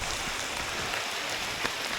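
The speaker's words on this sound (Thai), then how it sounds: "ฝนสนั่นเนาะ" Heavy rain from a storm pours down outdoors, a dense, steady hiss of drops drumming on surfaces with no pauses.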